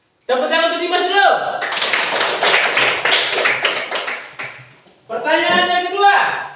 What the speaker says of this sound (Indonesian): Tepuk tangan untuk Dimas dulu.